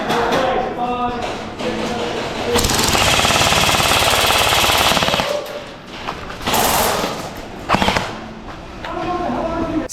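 A Valken airsoft M4 rifle fires loud, close, rapid full-auto bursts, one long sustained string and several shorter ones, with voices around it.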